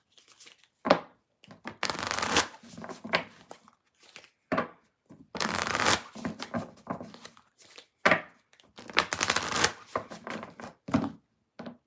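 Tarot cards shuffled by hand in irregular crisp riffles and slaps, close and fairly quiet, with no talking.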